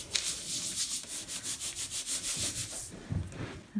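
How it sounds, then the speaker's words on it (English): The back of a sheet of paper is rubbed by hand over an inked printing block to transfer a print. About a dozen quick, rhythmic scratchy strokes sound close and soft, then stop, with no talk. "I might just give it one more rub."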